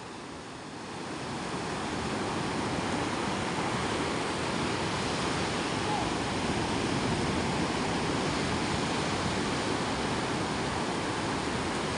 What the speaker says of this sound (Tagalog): Grabe ang ano, ang lakas ng agos.